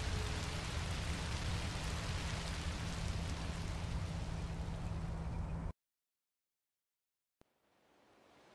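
Steady rain pours down in a Minecraft Story Mode scene, a dense, even hiss that runs loud for several seconds, then cuts to silence before a faint wash of rain returns.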